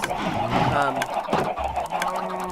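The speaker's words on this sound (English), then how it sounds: "we're going to go over here on a mass murdering spree and finish off these chickens" Minecraft chickens clucking and squawking as they are attacked in a Direwolf20 1.12.2 modpack, several quick fowl cries in a row alongside a voice talking.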